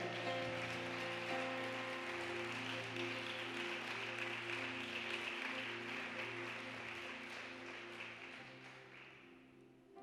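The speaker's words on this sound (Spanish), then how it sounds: "Dele un fuerte aplauso a mi Señor." A church congregation applauds in a steady, dense wash of clapping over sustained organ-like musical tones, holding for about ten seconds before fading at the end.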